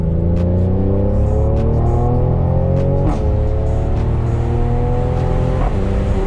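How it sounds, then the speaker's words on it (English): A car engine rises in pitch through repeated gear changes after a paddle-shifter downshift, loud and close from inside the cabin, with short breaks at each shift. "So I'm gonna downshift right now because I wanna go faster."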